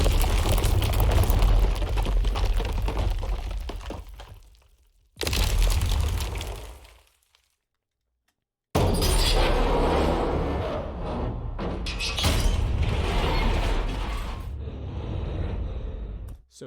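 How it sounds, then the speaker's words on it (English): Layered destruction sound effects of walls and handrails being smashed, with heavy crashing and debris bursts, a sudden cut to near silence, then another long loud run of breaking and rumbling. "lots of editorial smashing, lots of sound together that adds like to the weight and smashiness of all those things breaking in the scene"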